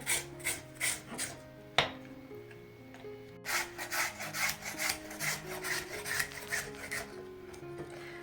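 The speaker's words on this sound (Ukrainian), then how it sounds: "Так, моркву я вже потерла." Carrots rubbed over a hand grater, a run of regular rasping scrapes, roughly two strokes a second, close and fairly quiet, with a short clatter partway through.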